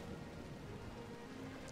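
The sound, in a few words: rain falling in a Total War video game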